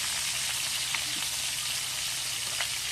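Steady, dense crackling sizzle of food frying in hot oil, continuous and close, with a few faint pops and no talking.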